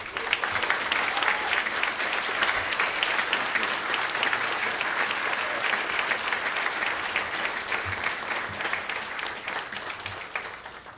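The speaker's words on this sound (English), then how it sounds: "it is worth giving this young man a warm, well-deserved round of applause" Sustained, loud audience applause fills an indoor paramedic graduation pinning ceremony, steady dense clapping from a large crowd throughout with no break.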